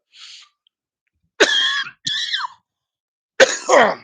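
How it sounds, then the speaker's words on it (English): Three loud, harsh coughs spaced a second or two apart, the first two a quick pair, the last a rougher, longer hack, with a faint breathy sound at the start. "Here goes that cough again"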